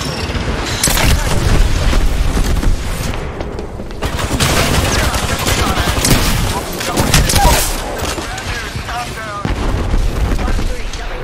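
Loud, dense gunfire bursts and heavy booms from a grenade explosion in the Apex Legends video game, rattling almost continuously for the full stretch with short dips between volleys, with brief game voice lines mixed in.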